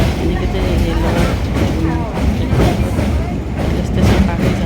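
A passenger train runs on its rails with a loud, steady rumble and rhythmic clatter heard from on board, and some talk mixes in over the noise.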